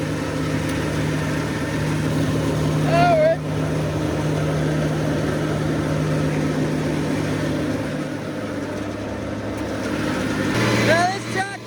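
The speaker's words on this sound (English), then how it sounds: "Now this tractor is definitely running fine." A farm tractor engine idles steadily nearby in a low, constant drone while someone talks over it, a few brief squeaks breaking through now and then.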